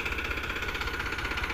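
A 2019 Powertrac Euro 50 HP tractor running a 7-foot super seeder gives a steady, close engine drone with a constant mechanical whir and no pauses.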